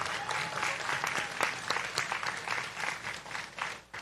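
A graduation audience claps in sustained applause at a community college ceremony, a dense, even wash of many hands that holds steady and fades slightly at the end.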